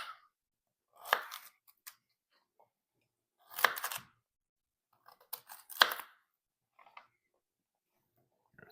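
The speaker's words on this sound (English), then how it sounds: "then I would like to cut mine up in cubes, so we'll get our pieces and then just cut them up in cubes" A knife cuts through a garden-fresh purple top rutabaga, dicing it into cubes: a few crisp, close chopping bursts separated by quiet pauses.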